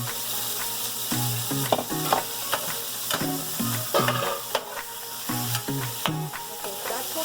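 Pork and garlic sizzle and fry in a pan, with a constant loud hiss while the food is stirred, and repeated scraping clatters of the utensil against the pan.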